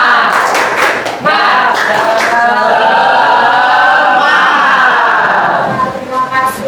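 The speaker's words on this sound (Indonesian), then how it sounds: "Kita tepuk semangat sekali lagi." A group performs a rhythmic cheer clap, the tepuk semangat, with sharp claps and shouted chanting voices mixed together in a lively, loud burst that builds and then fades.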